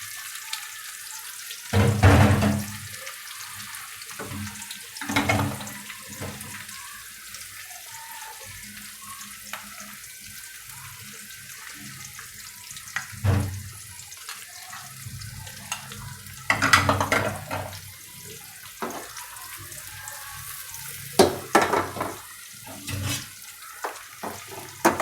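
Onions sizzle softly in a pan with garam masala, and louder scraping stirs and clatters break in at intervals, with no talk.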